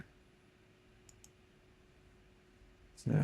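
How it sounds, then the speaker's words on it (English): A computer mouse gives two quick, faint clicks in an otherwise quiet room, followed by a brief louder burst of sound at the end. "Keep clicking the wrong thing."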